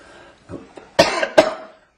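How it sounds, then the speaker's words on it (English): A man coughs a few times, two sharp, loud coughs after a softer throat-clearing sound, close to the mic with no talking. "I've got a cough."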